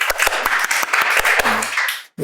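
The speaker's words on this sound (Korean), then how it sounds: "박수를 쳐요" A classroom audience claps to open the first session of a Korean appraisal and real estate law lecture: a steady patter of hand claps for about two seconds, then a brief pause and a short voice.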